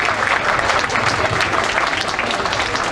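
Loud, dense applause from a crowd at a state senator's campaign kickoff event, with continuous clapping close to the microphone throughout and no speech over it.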